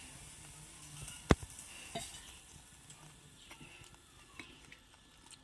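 Milk poured into jackfruit curry cooking in a pan, a soft bubbling sizzle and stirring with one sharp clink near the start, then faint scraping.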